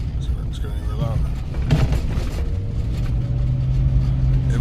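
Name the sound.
Lionhart Lionclaw tires road noise on rough road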